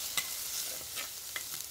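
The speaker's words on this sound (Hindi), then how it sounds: "ऑनियन और गार्लिक को कलर चेंज होने तक हम सोते कर लेंगे" Onion and garlic sauté with curry leaves in hot oil for a mackerel fish curry, a steady close sizzle broken by a few scraping stirs of the spoon.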